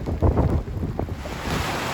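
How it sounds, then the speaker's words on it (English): Steady wind buffeting a microphone, a low rumbling roar with gusty swells and faint hissing throughout, no voices. "We've also had all the weather. Wind,"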